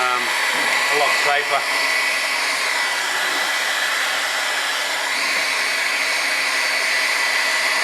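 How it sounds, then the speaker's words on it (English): A heat gun blows hot air steadily onto an engine's stuck piston rings to soften packed carbon, oil and grease, a constant loud whoosh throughout with a brief voice over it. "So we're just going to use a heat gun."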